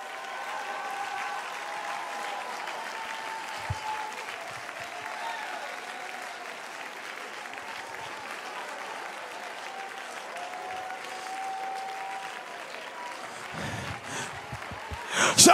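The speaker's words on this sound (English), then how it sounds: "Oh, clap your hands, all you people." Church congregation clapping their hands, a sustained wash of applause from a large crowd, steady and even, with a few louder thumps near the end.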